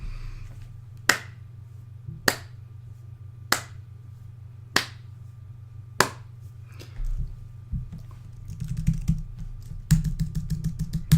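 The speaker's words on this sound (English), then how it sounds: "I think that deserves a slow clap" A single person's slow sarcastic clap: six sharp, evenly spaced hand claps about a second apart, close and distinct over quiet room hum, followed by softer clattering and rustling.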